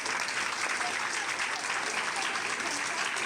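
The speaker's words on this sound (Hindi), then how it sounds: "ताली बजाइए सभी लोग।" Students at a weekly yoga camp held at Ghanshyam PG College applaud together, a dense, even wash of clapping that holds steady at the same level for the whole three seconds.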